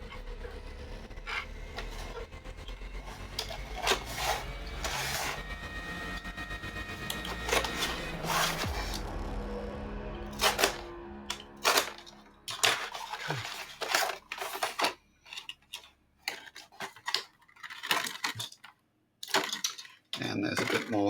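Cardboard toy figure packaging is cut and pulled open nearby, with crunchy scraping, tearing, snipping and sharp cracks in uneven bursts and short pauses.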